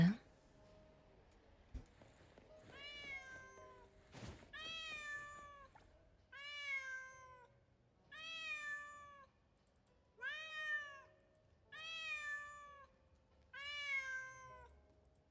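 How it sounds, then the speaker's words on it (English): A cat meows repeatedly and insistently, about six drawn-out rising and falling cries at a steady rhythm after a few soft knocks, close and clear indoors. "There's a lot of meowing."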